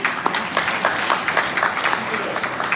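An audience at the end of a seminar breaks into steady applause, a dense wash of clapping that holds evenly throughout.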